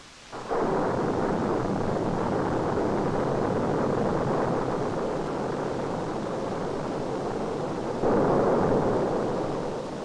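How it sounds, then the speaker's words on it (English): A Saturn V first stage fires all five engines in a static test, a sustained, loud, broadband roar that starts abruptly and holds for seconds, swelling again near the end. "The first 5-engine static test of this stage was conducted in the spring of 1965."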